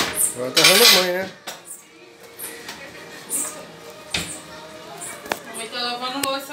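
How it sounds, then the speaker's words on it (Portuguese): Dishes, pots and cutlery clatter and clink as a mother washes up in a home kitchen, with repeated close metallic knocks while a voice and other talk carry over the top. "mãe tá lavando louça"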